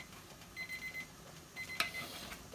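A kitchen timer beeps while bagels are baking, sounding a quick run of short, high electronic beeps, a pause, then a second run, all fairly faint over a quiet room hum.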